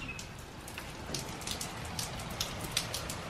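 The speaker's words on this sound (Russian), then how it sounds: "Представляете, у нас пошел дождь." Rain falls steadily, with scattered drops tapping loudly on a nearby surface over a soft continuous hiss.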